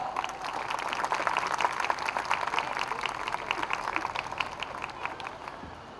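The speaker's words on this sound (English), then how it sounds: "Ladies and gentlemen, may we please have a round of applause?" Audience applause at a playgroup fashion show, a dense steady patter of clapping from a crowd that holds for the whole span at moderate loudness, with no speech over it.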